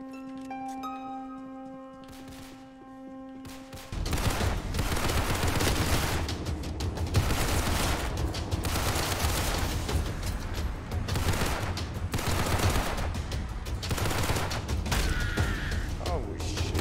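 Sustained gunfire in the Roblox game Criminality, a dense rapid automatic burst that runs loud and continuous after a quieter stretch of tones at the start.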